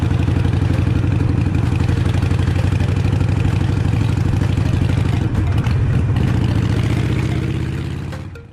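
A Harley-Davidson EVO V-twin runs steadily and loud throughout, a dense low rumbling throb that holds even and then fades slightly at the end.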